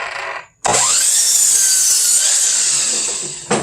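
A power saw makes a 45-degree beveled cut across the end of a wooden board for a storage shed, one loud continuous rasping cut lasting about three seconds after a short pause, with no talking.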